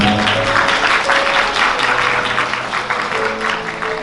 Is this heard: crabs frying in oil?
no